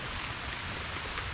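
Rain falls steadily in a backyard turtle and tortoise enclosure during a storm, a soft continuous hiss of drops on wet ground and surfaces, fairly quiet and unbroken throughout.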